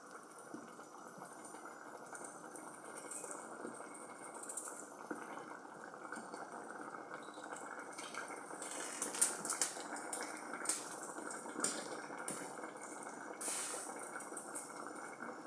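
A meat and potato curry (aloo gosht) simmers with potatoes added, giving soft, continuous bubbling and faint liquid gurgles, with occasional small splashes and clinks.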